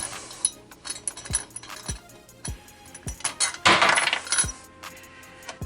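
A nut and washer being screwed onto a fitting under an undermount sink: close metallic clicks and ratchet-like turning, irregular light clinks and scraping, with no talking.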